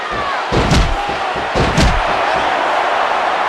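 Capacity crowd roaring in a video game wrestling arena during a Smackdown match, a steady loud din broken by several heavy slams and thuds from the ring.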